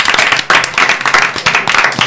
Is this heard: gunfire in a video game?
no